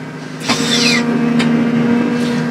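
A forestry forwarder drives off through snowy woods with a timber load. Its engine gives a loud, steady drone, with a brief high whine and a couple of short hissing bursts over the top.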